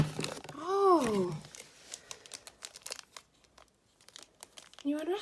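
A gift being unwrapped, with close crinkling and tearing of wrapping paper in bursts between a child's and an adult's voices.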